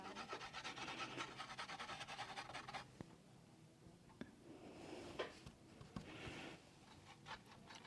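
Fingertip rubbing gilding wax over the high points of a textured wooden urn, a soft close-up scratchy rasp in continuous strokes, with a few sharp ticks later on.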